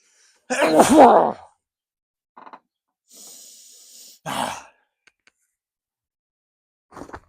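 A single loud sneeze up close, followed by quiet breaths and a soft hiss in otherwise near silence.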